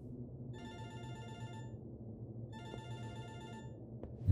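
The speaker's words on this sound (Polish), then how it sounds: "O! Dzwoni telefon." A telephone bell rings in a video game, two bursts of shrill electronic trilling about two seconds apart, fairly quiet over a low background hum.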